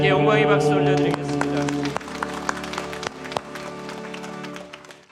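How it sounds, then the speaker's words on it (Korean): A church congregation applauds during a Sunday worship service, with clapping building under a sustained organ or keyboard chord that fades out after the first second. "우리 하나님께 영광의 박수 올려드리겠습니다"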